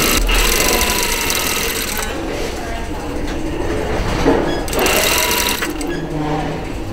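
A sewing machine stitches the hem of a blouse in fast, steady mechanical runs, stopping briefly between bursts. It is loud and close, with a little quiet talk in between.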